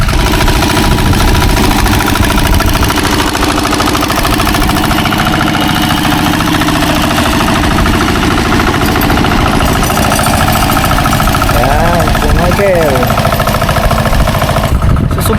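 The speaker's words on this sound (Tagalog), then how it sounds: "Susubukan nating mag hand tractor." A hand tractor engine on an onion farm runs steadily and loudly throughout, with a rough, rattling mechanical chug close by.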